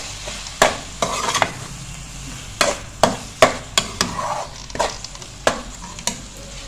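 Keema mince and yogurt stirred in a pan for a Reshami keema, a spoon scraping and knocking against the metal in a dozen or so irregular strokes over a soft, steady sizzle, close and clear with no talk.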